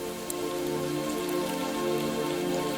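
Steady, calming rain falling on a surface, a continuous even patter with occasional sharper drops, alone without any voices.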